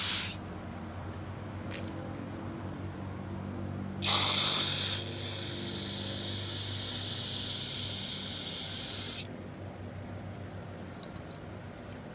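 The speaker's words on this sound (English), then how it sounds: "you blow your jets out, and make sure that they have good passage" Compressed air blasts through the jets of a carburetor from a 1968 Mustang, a short loud hissing burst followed by a longer steady spray of air, then a quieter tail, close and alone.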